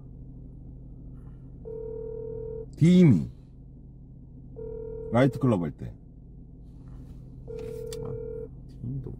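An unanswered outgoing phone call rings back three times in even, spaced tones, each pause broken by short bursts of nearby talk from people waiting for a friend to pick up.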